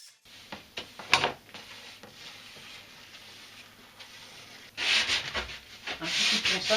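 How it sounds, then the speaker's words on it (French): Wood is sanded by hand with repeated rubbing strokes, a few quieter scratches at first and then a louder, denser run of close abrasive rasping. "Un petit coup de ponçage."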